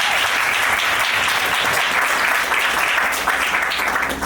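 Steady, dense applause from a seated audience at a civil wedding ceremony between a Gabonese and French couple, continuous and fairly loud throughout with no talk over it.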